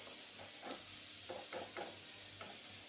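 Potatoes fry in oil in a pan, giving a steady quiet sizzle broken by several short scraping stirs, with no talking.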